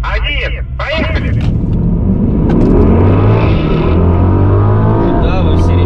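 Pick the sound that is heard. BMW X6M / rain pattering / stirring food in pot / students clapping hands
BMW X6M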